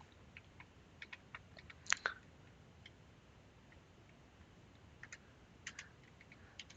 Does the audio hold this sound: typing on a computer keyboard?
yes